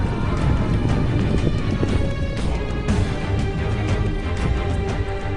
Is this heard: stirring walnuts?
no